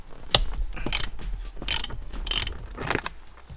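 A ratchet wrench turns a bolt while removing the armrest of a 2003-09 Lexus GX470. It gives several short, close bursts of rapid clicking with brief pauses between them.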